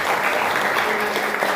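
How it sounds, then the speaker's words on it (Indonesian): Many pairs of hands applaud together in a school classroom, a dense, even burst of clapping that holds steady without any speech on top. "Iya, bagus, beri tepuk tangan"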